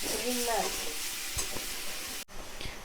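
Fish head frying in a pan, a close, steady sizzle with occasional stirring scrapes, and a voice briefly heard at the start.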